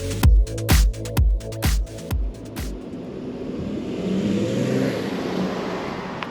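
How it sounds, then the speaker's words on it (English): A 2023 Volkswagen Atlas SEL V6 AWD engine revs in a series of regularly spaced, punchy surges that give way to a steadier, smoother hum of road and engine noise, with no voices. "Very smooth power plant. You can tell it's revving"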